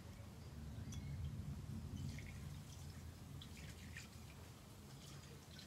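Tap water runs steadily into a sink while fingers are rinsed, a quiet continuous wash with faint drips and small splashes, no talking.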